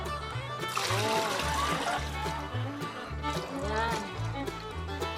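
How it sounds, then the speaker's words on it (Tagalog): Water splashes and pours into a chicken drinker in a rhythmic series of sloshing bursts, close by, with a few brief spoken words over it. "Nagpapakain ako ng manok at saka naglalagay ng tubig."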